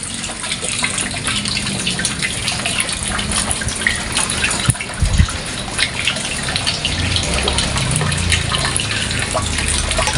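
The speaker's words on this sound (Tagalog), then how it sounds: "Saka ang lakas ng buhos ng ulan." Heavy rain from Typhoon Leon pours down steadily, a dense continuous rush of water with a brief louder splash midway, close and fairly loud, with no speech.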